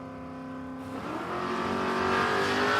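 A drag racing car in a modified class makes a qualifying pass at a Queensland championship round, its engine swelling from a steady drone into a rising, increasingly loud roar.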